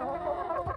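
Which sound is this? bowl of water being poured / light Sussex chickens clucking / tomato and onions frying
light Sussex chickens clucking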